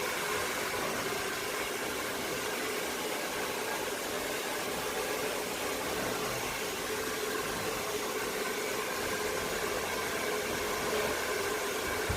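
A hair dryer blows on hair that has just been dyed reddish-brown and washed, giving a steady, loud, continuous rushing whoosh that runs throughout with no talking.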